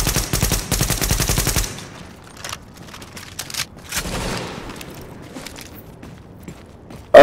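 Gunfire in the video game The Division, opening with a loud, rapid automatic burst, then scattered single shots and shorter bursts over quieter ambience, ending with a sudden loud hit.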